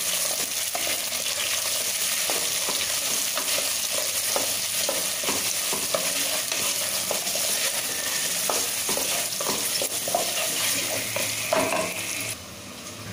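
Loud, continuous sizzling of onion and tomato frying in a pan, with occasional stirring scrapes and clinks throughout, no voices.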